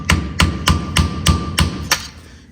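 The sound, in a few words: hammer tapping off a Land Rover axle part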